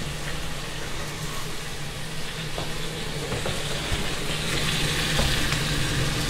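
Oxtails browning in a frying pan, a loud continuous sizzle and spatter up close, steady throughout with faint occasional clicks, no talking.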